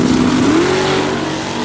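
A 1968 Dodge Dart HEMI engine revs once, loud and close. Its tone climbs and then holds high, with no other sound.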